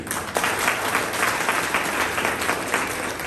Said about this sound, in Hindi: एक ताली आप लोग जोरदार अपने लिए लगाइए।